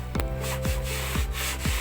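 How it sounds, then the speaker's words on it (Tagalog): Rhythmic back-and-forth rasping of sandpaper on wood, close by, with a low thump at each stroke, repeating about every half second. "So ayun, natapos na nating lihain"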